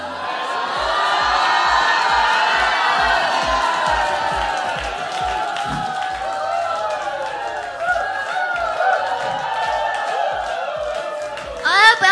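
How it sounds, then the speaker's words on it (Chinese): A live studio audience at an SNH48 Group Best Partner idol pairing show cheers, whoops and teases in a steady roar of many voices over a pounding music beat, with a burst of shrill shouting at the end. "起哄"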